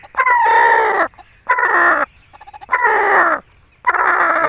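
An Aseel rooster crows four times in close succession, each call loud, near and harmonically rich, with short quiet gaps between them and no talking.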